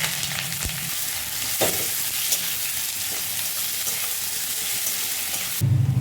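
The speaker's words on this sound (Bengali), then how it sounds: "রসুনটা একটু ভাজা ভাজা হয়ে গেলে আমি পেঁয়াজ কুচি দিয়ে দেবো।" Garlic and chopped onion fry in hot oil with bay leaves, giving a steady close sizzle with occasional stirring clinks and scrapes throughout, no voices.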